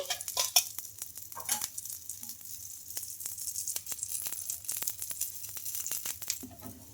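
Dosa batter frying in oil on a hot pan gives a steady crackling sizzle with scattered sharp pops, close and fairly loud, with no talking.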